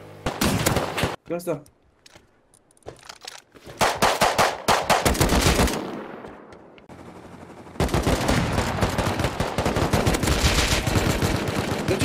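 Rapid automatic gunfire in the video game Rust comes in loud, dense bursts with brief lulls and then a long sustained stretch of shooting, and a voice speaks briefly among the shots.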